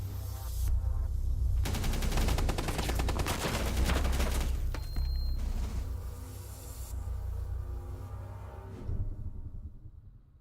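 Rapid gunfire through a wall in a competitive shooter video game, dense bursts of automatic shots firing continuously for several seconds, loud and close, then thinning out and fading near the end.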